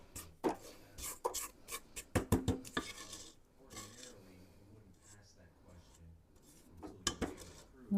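Nestle Toll House chocolate chip cookie dough is mixed in a bowl, with scraping, clinking utensil strokes in quick bursts, close and fairly quiet, with some faint talk.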